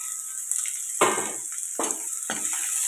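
Boiled potatoes and ginger garlic paste get stirred in a frying pan over a constant sizzle, with a few distinct scraping strokes of the spoon against the pan at irregular intervals.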